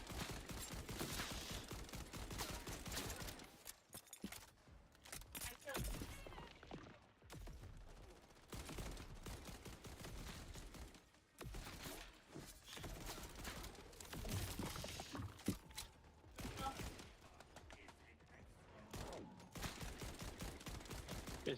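Bursts of automatic gunfire from PUBG rattle in rapid strings, broken by short pauses and clicks of in-game mechanisms, a dense, fairly quiet stream of shots heard throughout with no talk over it.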